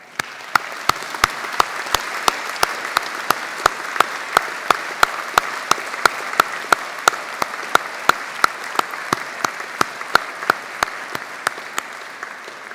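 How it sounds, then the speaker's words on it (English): A graduation ceremony audience claps in a steady, evenly spaced rhythm, each sharp clap distinct, with no voices over it. "join me in a round of applause"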